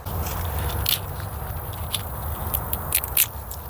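Dry, light crackling and rattling with a few sharper clicks as fully dried soybean seeds shift inside brittle pods, close by and quiet.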